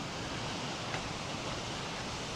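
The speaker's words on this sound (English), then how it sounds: "I think we are at the waterfall now" King Trail Falls in Lassen Volcanic National Park roars as a steady, broad rush of falling water, constant and fairly loud throughout with no voices.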